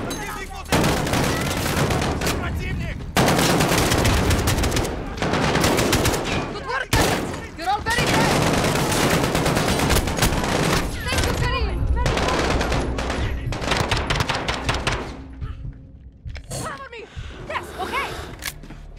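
Sustained automatic gunfire and explosive bursts in Call of Duty: Modern Warfare, loud and dense for most of the stretch, easing near the end, with in-game voices talking over the shooting.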